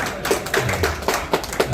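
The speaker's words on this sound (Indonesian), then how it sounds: "tepuk tangan dulu Pak Bondol nih" Guests at a gathering of Indonesian advocates marking the PERADI association's 21st anniversary clap briefly for an introduced colleague. A handful of close, crisp claps come at a quick, regular pace, with no talk over them.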